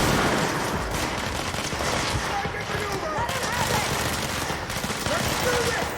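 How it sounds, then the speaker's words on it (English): Steady gunfire from the video game Control, a dense sustained crackle of shots running continuously at close range, with a voice present in the mix. "Somebody shooting at me?"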